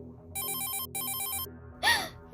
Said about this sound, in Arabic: موبايل سلطان بيرن، رقم غريب بيتصل عليه